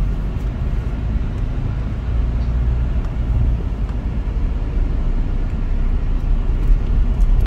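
Steady road traffic rumble of cars passing on a busy road, heard from inside a moving vehicle, with a continuous low drone throughout and no talking.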